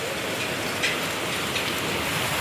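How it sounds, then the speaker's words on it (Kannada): Heavy rain pours down in a steady, dense hiss, with no voices. "ಸಿಕ್ಕಾಪಟ್ಟೆ ಮಳೆ."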